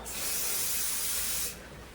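A steady aerosol spray hisses continuously for about a second and a half, close and fairly loud, then cuts off into quiet.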